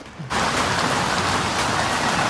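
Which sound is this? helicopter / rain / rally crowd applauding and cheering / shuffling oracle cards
rain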